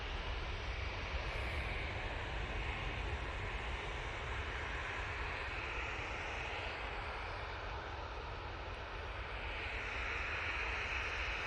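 TUI airliner taking off on a short flight, a steady, broad jet engine roar at a distance, holding level and even for the whole stretch.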